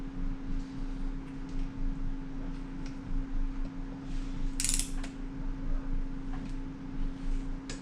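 Torque wrench tightening clutch bolts on a Honda CRF150RB, close and fairly quiet, with repeated ratcheting clicks and brief metallic ticks over a steady background hum.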